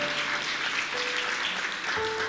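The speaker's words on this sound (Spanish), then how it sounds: "Yo creo que le podemos dar un aplauso al Señor" A church congregation applauding together, a dense steady wash of clapping that fills the whole stretch at moderate level, with faint tonal hum underneath.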